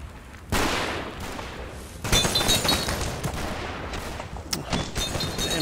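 Machine gun fire in the WWII game Combat Mission Fortress Italy, bursts of rapid gunshots crackling after a quiet start, with a sharp new volley around the midpoint and scattered reports continuing, moderately loud.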